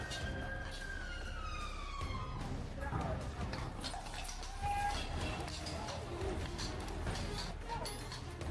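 A siren wails with falling pitch over steady outdoor noise at Horse Guards in London, then fades as general street sounds and scattered voices continue.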